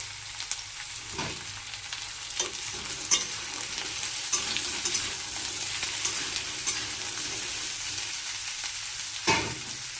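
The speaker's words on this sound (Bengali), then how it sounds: "ঝিঙে টমেটো দিয়ে দিয়েছি এবার নাড়ব" Ridge gourd and tomato frying in a pan, stirred with a utensil: a steady close sizzle with intermittent scraping stir strokes, no talking.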